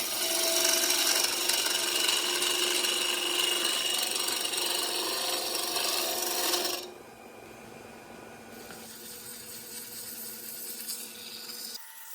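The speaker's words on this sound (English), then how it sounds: "using the skew chisel as a negative rake scraper, and I'm also using my round scraper" A wooden tea light holder turned on a lathe, shaped with a skew chisel used as a negative rake scraper and then a round scraper: a steady scraping rasp over the motor's whir, quieter after a pause midway.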